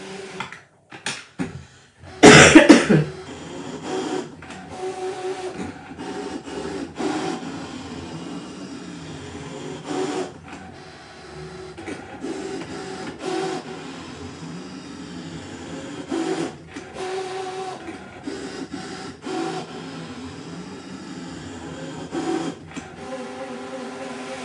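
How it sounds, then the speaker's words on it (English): A Brother ScanNCut machine cutting fabric on a fabric mat gives off a steady, low mechanical whir. Its motor hum changes pitch as the blade carriage moves, with a brief louder burst near the start and no one speaking. "now I'm just going to come back to the machine, going to hit start"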